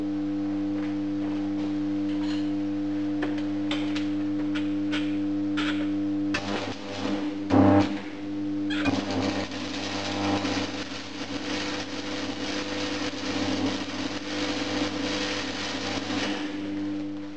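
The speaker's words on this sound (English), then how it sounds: "I will now give the welder a test and we'll see how many amps it will draw" A converted AC welder running on DC output gives a steady electrical hum throughout, joined about halfway by loud, continuous crackling and sputtering from the welding arc, with no talking.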